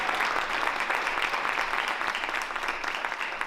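Audience applause at a poetry event, a dense, steady burst of clapping from a crowd with no voices over it.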